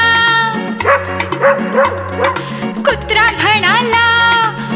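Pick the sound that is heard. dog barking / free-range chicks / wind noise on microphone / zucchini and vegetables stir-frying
dog barking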